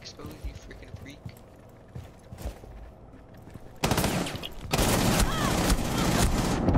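Gunfire in Tom Clancy's Rainbow Six, loud sustained automatic bursts that erupt after a quieter stretch of faint voices and scattered clicks, then keep going to the end.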